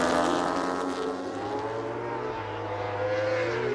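A rasping Ducati superbike engine at full race pace during a 2005 World Superbike race at Assen, a steady loud drone with shifting engine tones and no voices.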